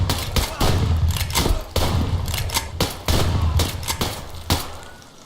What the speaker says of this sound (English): I shot that guy so many times.